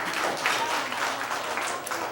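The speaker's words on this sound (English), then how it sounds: "let's clap for the friends." A small group claps together, a steady patter of applause lasting a couple of seconds.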